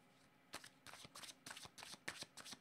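A deck of playing cards being shuffled, a run of about seven quick crisp riffling bursts in steady rhythm, close and fairly quiet, with no voices.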